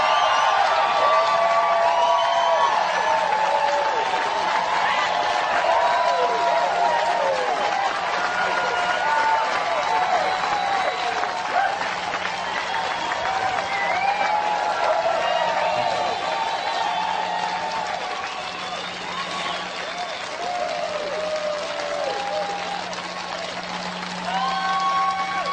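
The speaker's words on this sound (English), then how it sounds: "Give yourselves a round of applause." A large audience at a motivational seminar applauds continuously, a broad bed of clapping and crowd noise with scattered cheers and whoops, dipping slightly late on before swelling again.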